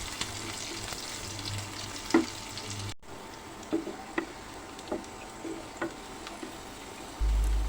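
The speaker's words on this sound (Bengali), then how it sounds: "সবগুলো ভালো করে ভেজে নেব" Onion, garlic and green chilies frying in a pan for a dried kachki fish bharta, a low continuous sizzle with intermittent spatula scrapes and taps, and a brief drop in the sizzle partway through.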